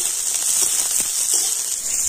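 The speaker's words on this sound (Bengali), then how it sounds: "এই সমস্ত কিছু এখন তেলের উপরে একটু হালকা করে ভেজে নেব।" Onion and green chillies fry in hot oil over an earthen clay stove, giving a steady, even hiss and crackle with no break.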